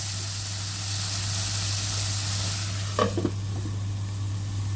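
Chicken liver for gisado sizzles in a pan as a steady even hiss over a low hum, with a short clatter of stirring or lid noise around the middle, no voices.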